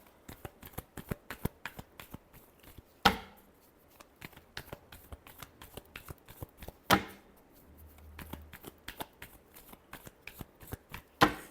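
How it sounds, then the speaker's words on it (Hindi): Tarot cards being shuffled by hand in a series of rapid riffling and tapping bursts, close and fairly quiet, with a few sharper snaps of the deck and no talking. "Last shuffle."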